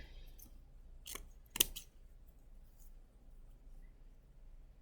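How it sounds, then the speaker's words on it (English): Scissors snip through folded paper in a few quiet, crisp cuts, the sharpest one standing out clearly in an otherwise hushed room. "So fold it in half and cut it at an angle."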